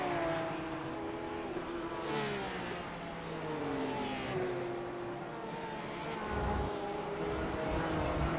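GT race cars in the iRacing sim at Phillip Island, engines droning and shifting pitch as they accelerate and brake, a steady layered roar of several cars with revs rising and falling through the corners, no talking.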